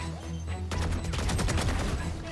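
Rapid gunfire in the tactical shooter Valorant, a dense burst of sharp automatic shots rattling for well over a second at close range, with no talk over it.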